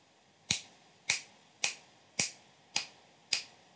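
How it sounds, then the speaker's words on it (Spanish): Six crisp finger snaps, recorded into a Scratch project, ring out one by one at an even pace of about one every half second. Each is a sharp close click that fades quickly into a quiet room. "voy a agregar un chasquido de dedos"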